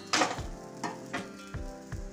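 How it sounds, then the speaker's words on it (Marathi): An onion paratha sizzles in oil on a hot griddle in short bursts, with a few soft clinks and scrapes between hisses; no voices. "तव्यावर आपण कढईने तेल सोडून घेऊया आणि हा पराठा तव्यावर टाकून घेऊया"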